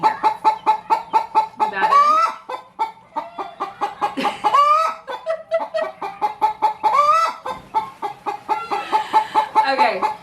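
Chickens cluck loudly and repeatedly in a close, rhythmic run of squawks, apparently a hen upset near her laying spot, with brief speech mixed in.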